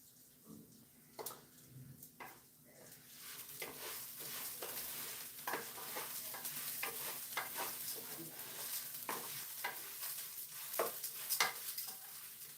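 Onions fry in a pan with a soft, steady sizzle, while a spoon stirs and scrapes against the pan in irregular bursts. The kitchen is quiet apart from the cooking.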